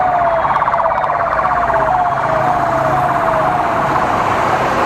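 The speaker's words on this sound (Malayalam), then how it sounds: "അടുത്ത ആംബുലൻസ് ഉണ്ട്." An ambulance siren on a busy city street, loud and close, a rapid warbling wail with a slowly falling pitch sweep, continuous throughout with no voices.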